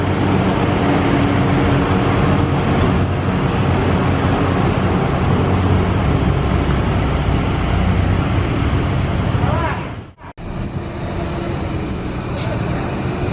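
Congested road traffic on a steep mountain stretch, with a continuous loud wash of engines and tyres from cars, buses and trucks idling and creeping along, briefly cut by a sharp dropout near the end before the rumble resumes.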